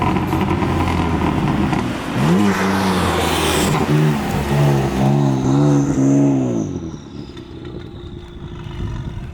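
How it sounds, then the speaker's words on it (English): A 2020 BMW M4 Heritage Edition with its stock exhaust revs hard several times in quick succession, loud close blips that rise and fall before settling back to idle. "let you hear it"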